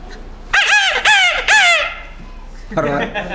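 A human voice imitates a grey junglefowl's crowing call: three loud, rising-and-falling cries in quick succession, then a shorter fourth after a pause.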